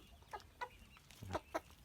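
Bantam chickens of the Benjarong variety give a few quiet, scattered clucks, short and faint, with some soft background noise.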